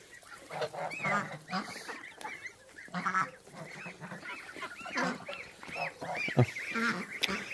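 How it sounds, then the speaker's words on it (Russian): Older and younger goslings scuffle in a farmyard, giving repeated nasal honks and squeaky calls in uneven bursts, close by and moderately loud. "гусята старшие с меньшими дерутся"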